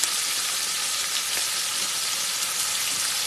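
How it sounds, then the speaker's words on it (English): Round steak fries in a pan with a splash of coffee poured in, giving a loud, steady, hissing sizzle with a touch of steam, close up and continuous, with no talk. "Now Mama's going to put just a little coffee in there."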